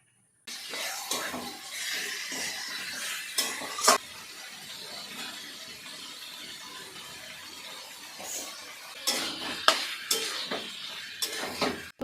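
Chicken cooks with spice paste in a pan while a utensil stirs and scrapes, giving a soft frying hiss broken by sharp clinks and scrapes, heavier near the start and again toward the end.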